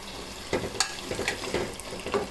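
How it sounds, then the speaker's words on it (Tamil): Mutton biryani ingredients, with mint and coriander leaves, being sautéed and stirred in a pan, giving a soft sizzle with a few scraping stirs spread across a short stretch, no talking. "இப்போ இதை நல்லா வதக்கி விட்டுக்கிடலாம்."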